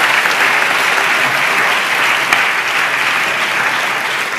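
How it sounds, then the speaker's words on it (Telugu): A church congregation claps together during a pastor's sermon, steady dense applause filling the room at close range, even and sustained throughout with no voices. "ఆ దైవ సేవకుని బట్టి అందరం చప్పట్లు కొడితే యేసయ్యకు స్తోత్రాలు చెప్తాం."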